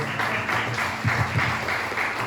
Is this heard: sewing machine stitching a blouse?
no